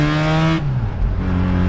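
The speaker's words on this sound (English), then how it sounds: "Engine continues to accelerate and we do not." A Mazda rotary pickup engine revving hard under throttle while the clutch slips, a loud close drone that drops abruptly as revs fall, then a lower steady engine tone resumes.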